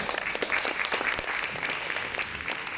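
Audience applause at a school seminar on nationalism for students, thanking three speakers, a steady even wash of clapping heard at moderate distance throughout.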